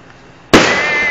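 An aerial firework shell goes off outdoors with a sudden loud bang that breaks into a sustained crackling hiss, after a brief quiet lead-in.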